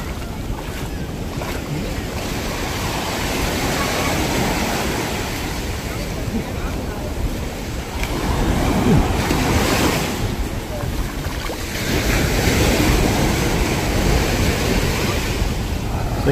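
Sea waves wash onto the shore at a beach in Surigao del Sur, a broad rushing surf that swells and recedes in slow surges under heavy wind buffeting the microphone.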